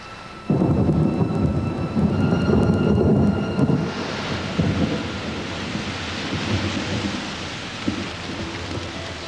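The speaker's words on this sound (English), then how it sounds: "a change in the weather heralds welcome rain" Thunderstorm with rain over a freshwater lagoon: a sudden loud thunder crack opens, rumbling on over steady heavy rainfall that continues as the thunder fades.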